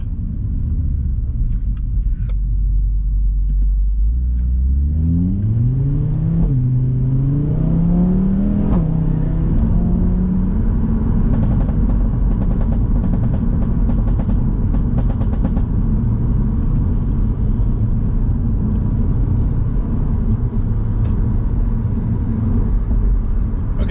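An Audi RS3 Sportback accelerates hard on a motorway from about 50 mph, its engine note rising in pitch through the gears before settling into a loud, steady roar over road rumble, with no talking.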